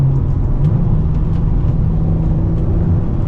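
A Ferrari 599 drives in sport mode, its engine a steady close, loud drone with no distinct shift breaks.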